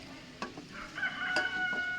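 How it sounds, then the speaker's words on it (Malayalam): A rooster crows in the distance, faint and drawn out, over quiet background with a couple of soft knocks. "അവിടെ ഒന്നുകിൽ കാക്ക അല്ലെങ്കിൽ കോഴി"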